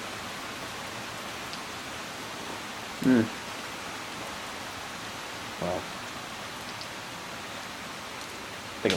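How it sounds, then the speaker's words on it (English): Heavy rain pours down steadily as a dense, even hiss throughout, with a few brief louder bumps and a short spoken word near the end. "I don't know if you can tell if it's raining harder now, but it's coming down a lot harder than when I started this video"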